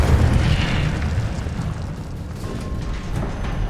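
Fire spell cast in Hogwarts Legacy, a dense rumbling burst that stays loud for a few seconds over a whooshing game background, with no talking.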